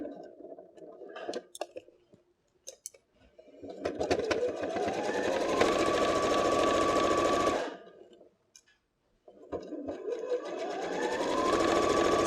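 A sewing machine stitches a fabric phone case with lining, running in two sustained whirring bursts that rise to a steady hum, with needle clicks and handling noises in the pauses, close up.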